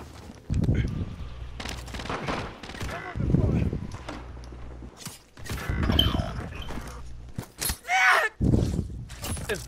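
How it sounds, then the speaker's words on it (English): Video game gunfire crackles in short intermittent bursts mixed with mechanical clicks and creaks, with people talking over and between the shots. "hostile fire"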